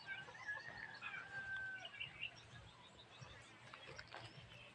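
Chickens cluck and call faintly in the background, with scattered short chirps over a low, steady hum.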